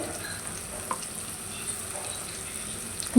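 Spices (salt, turmeric, red chilli powder and cumin powder) are stirred and lightly fried in a pan for a jackfruit and shrimp curry. A soft, even sizzle runs throughout, broken by a few light scrapes and clinks of the stirring spoon.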